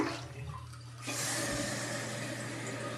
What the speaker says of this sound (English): It says flush several times.